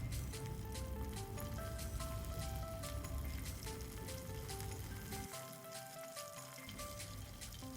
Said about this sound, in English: flip the fish cubes, and on medium flame we need to fry them until they are deep golden brown from both the sides